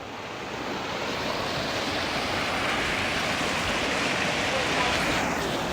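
A fast-flowing mountain stream in Himachal rushes steadily nearby, its continuous broad roar of churning water holding even and loud throughout.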